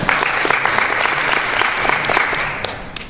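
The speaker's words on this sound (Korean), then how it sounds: "수고해 주신 선생님께 한 번 더 박수 부탁드리겠습니다." Sustained applause from a conference audience for a presenter at an international fire investigation conference: dense, even clapping from many hands that fades slightly at the end.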